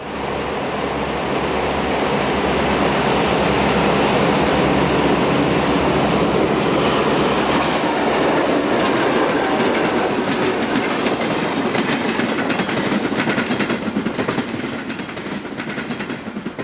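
A B&O local freight train rolls by close and loud, a continuous heavy rumble with rhythmic wheel clatter and rattling cars that holds for the whole stretch.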